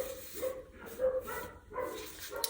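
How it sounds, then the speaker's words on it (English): Puppies next door bark and yip in short bursts, several quick high-pitched barks spread across the moment, moderately near and fairly clear against a quiet indoor background. "The puppies next door."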